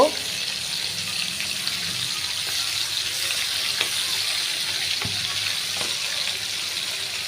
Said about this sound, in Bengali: আমি মাছগুলো বেশি কড়া করে ভাজবো না হালকা করে ভেজে নেব